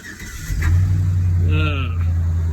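Chevy Silverado SS engine, left sitting three weeks in cold weather, cranks and fires up after about half a second, settling into a loud steady idle with a brief rising rev partway through.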